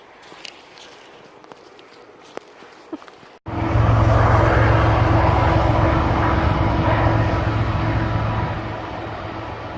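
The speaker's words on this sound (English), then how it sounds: "Another train." A train passing near a hiking trail in the Laurel Highlands. A quiet outdoor scene with faint ticks suddenly gives way to a loud, sustained rumble and drone that stays close and steady.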